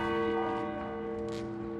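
Church bells ring across Quebec in a public memorial, a rich, sustained metallic toll with lingering overtones, heard fairly faintly and alone, without talk.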